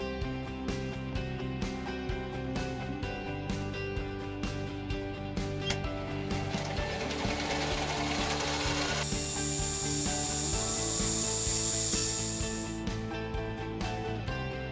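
A small clock part, a thumb wheel glued to a drill-rod stub arbor, turns on a lathe while its parted-off face is cleaned up, giving continuous scraping and rubbing with rhythmic ticking from the machine, brightening into a harsher hiss partway through.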